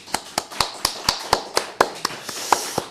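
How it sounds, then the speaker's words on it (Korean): Sharp, evenly spaced hand claps at an early-morning Thursday church service, about a dozen close, crisp claps in a steady rhythm over three seconds, with no talking. "우리 하나님께 한번 우리 감사의 박수 한번."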